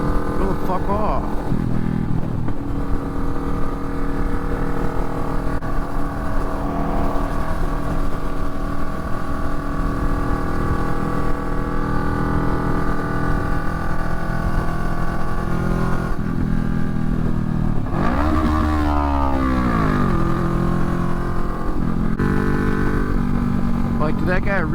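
Kawasaki Vulcan 650 motorcycle ridden through highway traffic, a steady close engine drone with wind rush throughout, rising and falling as the rider changes speed, and a revving sweep near the end.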